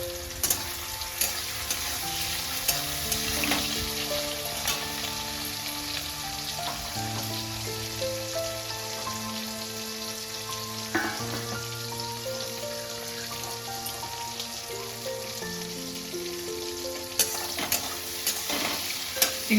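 Prawns sizzle steadily in hot oil for a Bengali bottle gourd and prawn curry, a continuous close crackle with music playing underneath throughout.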